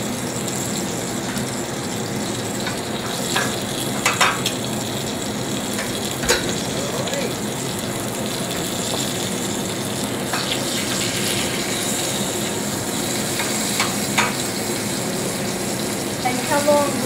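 Durum-floured meat searing in a hot pan, a steady broadband sizzle running throughout with occasional sharper crackles and spits, fairly close and even in loudness.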